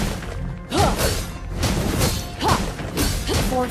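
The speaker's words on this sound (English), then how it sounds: "Destroyed a turret!" A turret being destroyed in the Mobile Legends video game, heard as loud crashing, smashing impacts with whooshes over busy game effects, several hits across a few seconds.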